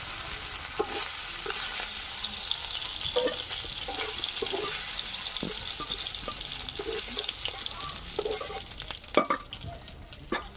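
Chicken and vegetables frying in oil in a pan for chicken vegetable pasta, a steady close sizzle with stirring scrapes and clatter throughout, rising to a few louder knocks near the end.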